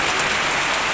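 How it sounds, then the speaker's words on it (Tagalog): Heavy May rain in Laguna pours down in a dense, steady hiss of drops striking surfaces, loud and close for the whole brief moment, with no talking. "Ito na yung ulan ng Mayo dito sa amin, sa Laguna, na medyo lumakas-lakas."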